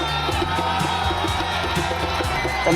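Crowd cheering and shouting in celebration of India's Champions Trophy cricket win, a dense, continuous roar of many voices with whoops and yells, loud and sustained throughout, with music-like tonal layers running underneath.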